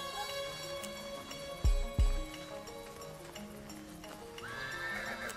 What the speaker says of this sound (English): I hate horses, Billy.